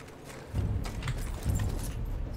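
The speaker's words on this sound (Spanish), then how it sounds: "Me piro en caballo hasta la otra punta" Hooves pound in a quick, rolling galloping rhythm as a horse is ridden in the Battlefield 1 campaign, close and continuous over the game's background rumble, with no voices in this stretch.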